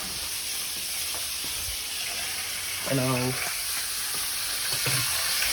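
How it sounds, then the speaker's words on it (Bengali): Fish fries in a hot pan with a steady, close sizzle that holds throughout, while a voice briefly speaks over it. "কি রান্না হচ্ছে এখানে? মাছ ভাজা।"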